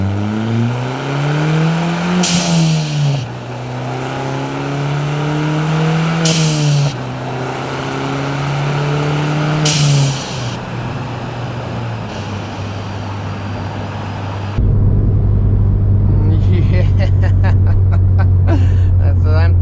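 A Ford Fiesta ST engine revs up and down repeatedly, close and loud. Each rev ends in a sharp blow-off valve whoosh, three in all, before a steady drone takes over.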